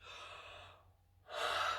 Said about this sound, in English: I want you to fake a yawn